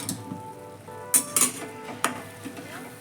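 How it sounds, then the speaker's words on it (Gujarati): A spoon stirring dry ginger and gathoda powder into a hot winter sweet mixture for gondh pak, with a few sharp metal clinks and scrapes against the pan over a soft sizzle, close by. "અને બધું સારી રીતે મિક્સ કરી લઈશું"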